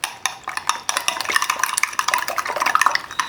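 A spoon rapidly beating eggs in a bowl for an omelette, giving a fast, steady stream of close, bright clinks and scrapes with no talking.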